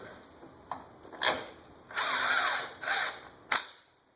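A power drill drives bolts into the starter cover of a Polaris Sportsman ATV during reassembly after a bendix replacement, heard as several short whirring bursts followed by two longer runs, close and fairly loud with quiet pauses between.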